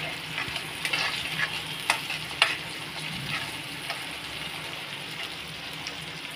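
Onions and tomato frying in a pan, a close, continuous sizzle with scattered crackles and the occasional scrape of a spoon being stirred through them.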